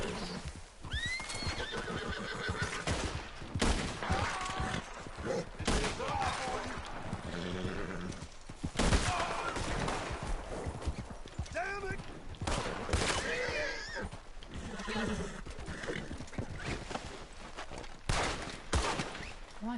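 Gunfire in the Western video game Red Dead Online sounds as sharp, loud cracks and bursts. They are mixed with horse whinnies, hoof clatter and character voices in a busy, continuous game soundscape.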